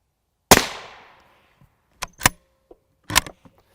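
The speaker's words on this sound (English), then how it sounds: "Got 6 shots in 6 fair hit places" A single loud rifle shot cracks at an outdoor range where silicon carbide Level III armor plates are tested with M193 and M855 rounds. A ringing decay follows, then a few faint clicks and clatters.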